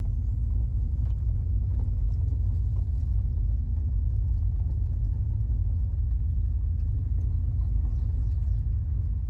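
Vehicle driving at night on a game drive in the Kalahari, on a camp road and off-road: a steady, close low engine rumble continues without a break and without voices.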